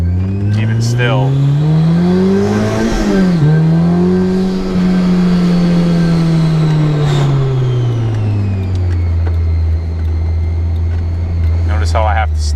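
A supercharged Honda S2000 CR with a Kraftwerks kit revs hard and close, its engine note climbing, dipping briefly and holding high before easing down, with a driver talking over the steady drone.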